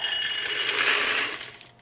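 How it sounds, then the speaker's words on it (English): Peanuts pour into a greased slow cooker, a dense rattling clatter of many small nuts hitting the ceramic crock for about a second and a half before tapering off. "let's add in our peanuts"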